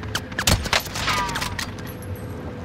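Gunfire in a shooter video game: several sharp shots crackle in a short burst near the start, then fade into a low steady background hum, with a thin high tone appearing near the end.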